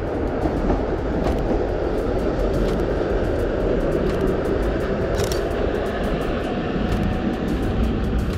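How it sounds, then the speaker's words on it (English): A tram rolls along a city street, a steady broadband rumble with a faint squeal of wheels, continuous and fairly close, with no talk over it. "There is a tram coming over there"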